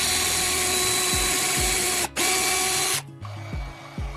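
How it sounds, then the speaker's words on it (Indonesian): A drill bores a hole lengthwise through a cut-down plastic toothbrush handle clamped in a vise, making a steady loud whirring grind that briefly cuts out twice, with a lower, quieter run at the end. "Jepit di ragung dan bor lubang sepanjang gagang."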